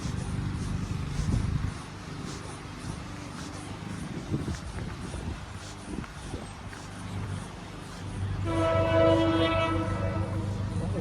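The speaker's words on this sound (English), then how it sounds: "Hear a train coming through the city." A train rumbles past through the city of Brockville, Ontario in the distance, its horn blaring loudly for a couple of seconds near the end over a low outdoor hum.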